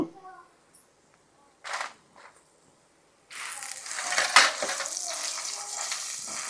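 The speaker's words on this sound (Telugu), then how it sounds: "అల్లం ముక్కలు వేసుకుంటున్నాను" Ginger pieces dropped into a hot pan, with a few quiet clicks and scrapes before a loud, dense sizzle of frying that bursts in and continues steadily to the end.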